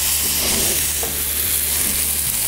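Burger patties sizzle on a Blackstone flat top griddle, a dense, steady frying hiss close by that runs unbroken with faint crackles and pops throughout.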